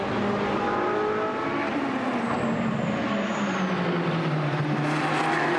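GT race cars brake hard into a corner at Misano, a loud engine note sliding downward in pitch as they slow, with a faint high squeal briefly audible over the roar.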